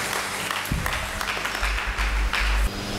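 Church congregation applauding during a worship service, a steady dense wash of clapping with a few louder bursts and low thumps, sustained throughout.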